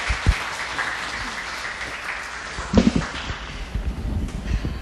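Audience applause after a band's live set at a radio book-talk event, a steady wash of clapping throughout with a few sharper thumps near the start and middle, no talking.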